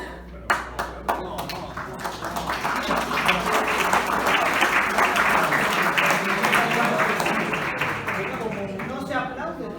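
Audience applause in a lecture hall at a genealogy talk, starting with scattered claps, swelling into sustained full clapping from a sizable crowd, then thinning out near the end.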